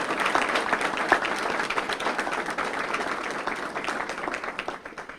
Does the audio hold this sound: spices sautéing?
no